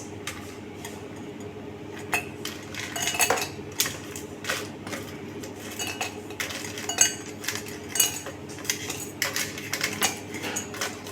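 Crushed ice clinking and rattling into a glass while an orange and strawberry spritzer mocktail is being made, a long run of close, bright clatters and chinks over a steady low hum.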